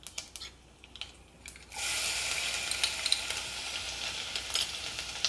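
Cumin seeds and garlic dropped into hot oil: a few light taps and crackles, then a sudden loud, continuous sizzle with scattered pops, close by.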